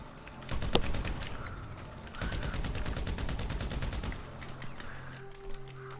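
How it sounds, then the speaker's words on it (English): Rapid automatic gunfire rattles in Grand Theft Auto V, a burst of sharp shots, then a longer steady volley of evenly spaced rounds, loud and close, followed by quieter game sounds. "I'm shooting at him."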